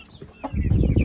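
Black Indian game roosters and chickens cluck in a close coop, a single short call early followed by a louder burst of low clucking and fluttering that fills the second half.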